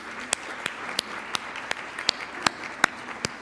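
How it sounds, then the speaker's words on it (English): At a panel event on downtown Columbus retail, audience clapping for sponsors comes through as a sparse, evenly spaced run of about ten single claps, quiet and distinct rather than a full round. "Can I please get a round of applause for this group of sponsors?"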